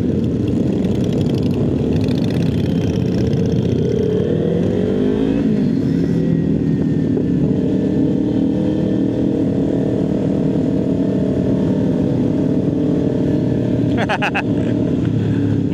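Motorcycle and Vespa engines rumble and rev during a Distinguished Gentlemen's Ride group ride in Penang, a loud continuous drone with rising and falling revs under ongoing talk.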